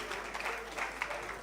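Audience clapping at an African youth conference: a brief, moderately soft patter of scattered hands with a few sharper claps standing out.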